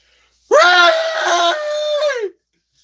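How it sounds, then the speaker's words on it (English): A single sustained human scream, loud and close, rising sharply, holding for almost two seconds with a wavering pitch, then cutting off into silence. "scream it."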